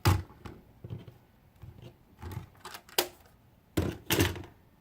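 A paper cutter trims cardstock with a series of quiet, close clicks and sliding blade strokes, spaced irregularly with short pauses and no talking.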